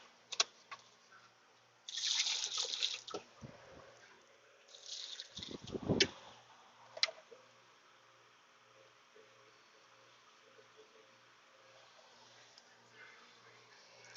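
Tap water runs into a chicken waterer in two short bursts, fairly faint, with light handling noise in between and a quiet background.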